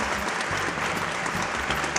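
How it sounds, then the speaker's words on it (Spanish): Warm, continuous applause from a studio audience, dense and even throughout the short stretch, with no voices over it. "este cálido aplauso le queremos dar a ustedes dos, a Hugo y a Carlos"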